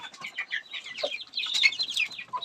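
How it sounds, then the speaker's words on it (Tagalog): Backyard chickens beside a house clucking and chattering close by, a busy overlapping flock with short calls repeating throughout. "Ito yung mga manok natin dito sa gilid lang ng bahay"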